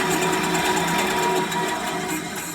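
A workshop bandsaw with a bent blade runs steadily at close range, giving a continuous whirring drone with a faint irregular wobble and no voices.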